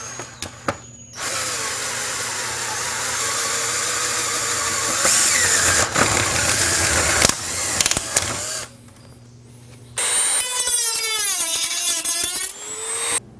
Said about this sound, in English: we're going to use this 3/4 inch hole saw to drill the larger hole